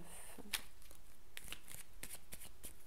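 Tarot cards shuffled by hand for a reading, with faint papery riffles and soft taps at irregular intervals over a low, steady background hiss.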